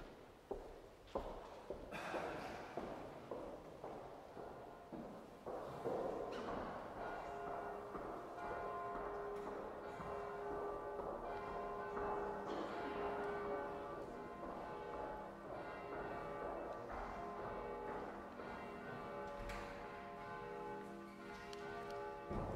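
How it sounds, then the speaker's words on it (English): Church bells ring at Örgryte New Church, a long resonant stretch of overlapping chimes and sustained tones with a steady, fairly quiet level. "Now we listen to the church bells"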